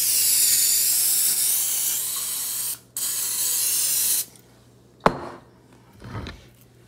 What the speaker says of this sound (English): Now I'm gonna spray.